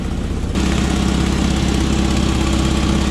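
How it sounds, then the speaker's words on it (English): A Toyota RA40 car engine runs with a leaking exhaust, a loud, close, rough idle with a steady low thrum and rapid puttering pulses that swell slightly as revs rise. "She's got an exhaust leak. The exhaust on this is a bit dodgy."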